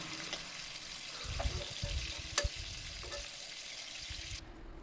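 Dried fish deep frying in hot oil for a curry, a steady bubbling sizzle with a few louder crackles, alone without talk.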